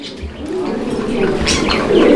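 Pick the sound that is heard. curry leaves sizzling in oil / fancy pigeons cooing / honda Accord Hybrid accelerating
fancy pigeons cooing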